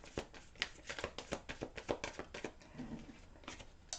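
Tarot cards handled and shuffled by hand, a run of crisp riffling snaps and soft taps at an irregular rhythm, close and fairly quiet, with no voice.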